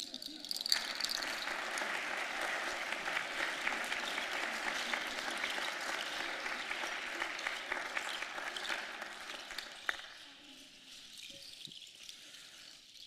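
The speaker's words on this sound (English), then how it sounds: "How about one more round of applause?" Sustained applause from an audience for traditional dancers at a reconciliation award ceremony, steady dense clapping that thins and fades near the end.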